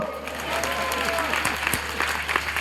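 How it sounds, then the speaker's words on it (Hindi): Listeners at a Jain temple discourse clap together in a steady, fairly loud burst, individual sharp claps standing out now and then, with a few murmured voices underneath. "ताली हो जाओ"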